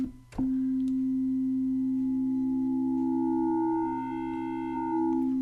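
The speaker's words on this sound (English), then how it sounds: "we end up back to the sine wave" A steady, pure sine-wave synthesizer tone hums alone, briefly preceded by a click, with faint higher FM overtones creeping in before it settles back to a clean sine tone.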